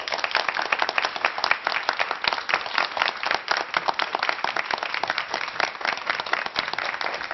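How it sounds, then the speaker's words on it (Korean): Sustained applause from an audience at a televised lecture, welcoming a veteran announcer to the stage: dense, steady clapping that holds at an even level for several seconds with no talk over it. "큰 박수로 맞아주시기 바랍니다"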